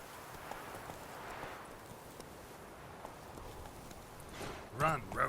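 Roach the horse gallops in The Witcher 3: Wild Hunt, a steady muffled hoof rhythm under the game's ambient wash, with a brief voice near the end.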